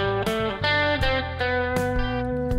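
A distorted electric guitar picks a simple melodic line, several notes with sustained tones between attacks, loud and close and heard alone.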